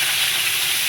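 Okra, potato and green chillies frying in hot oil give a steady, loud hiss that holds evenly from start to finish, with no speech.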